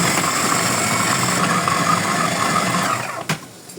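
An electric grinder minces spiced meat for kibbeh with a loud, steady motor whir up close. The whir drops off near the end after a sharp click.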